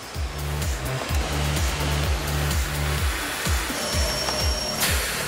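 A Henry vacuum cleaner motor runs steadily, a loud continuous rushing whoosh of airflow with a repeating mechanical pattern underneath, heard close up and without speech.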